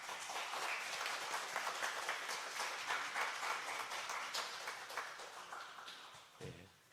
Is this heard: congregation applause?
yes